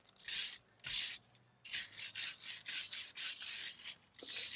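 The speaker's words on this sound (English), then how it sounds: "So let's take a wire brush," Wire brush scraping rust from a front brake rotor during a pad and rotor replacement, heard as a series of harsh, close scrubbing strokes, two separate passes and then a quicker run of rhythmic back-and-forth strokes.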